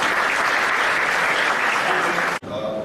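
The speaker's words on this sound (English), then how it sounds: "Ladies and gentlemen, please join me in giving a round of applause for Mr." Audience at a business conference giving a round of applause for an entrepreneur, dense steady clapping that breaks off abruptly, followed by a quieter tail.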